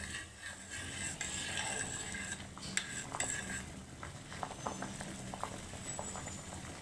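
Soaked raisins being stirred into chana dal payasam in a metal pot, with a spoon scraping and clinking against the sides in irregular taps over a faint steady background.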